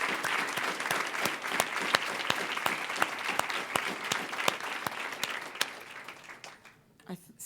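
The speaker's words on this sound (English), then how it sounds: "big round of applause" Distinct, sharp claps ring out at a campaign event with a politician, a near audience clapping in a steady rhythm over softer background applause before fading out, with a voice resuming at the end.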